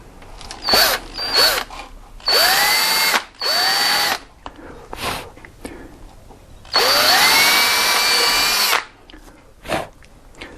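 A power drill spins up in several bursts during car crash repair, revving and whining for a second or two each, with a longer run near the end and quiet gaps between.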